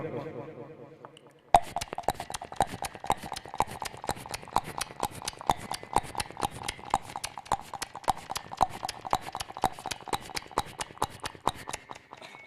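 A stage performer imitates the hooves of a mounted police patrol horse, producing steady, rhythmic clip-clop beats that carry on for over ten seconds after a short spoken lead-in.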